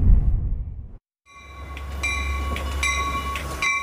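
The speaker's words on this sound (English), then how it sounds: "Watching as the 1244 Metra train rolls up to his platform in Beverly." A Metra commuter train rolls up to a station platform in Beverly, Chicago, a steady low rumble with a bright, sustained metallic squeal of wheels and brakes rising after a brief cut, close and fairly loud.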